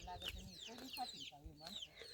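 Chickens being fed cluck and chatter nearby in short rising calls, a few loud and bright, with low murmuring talk underneath.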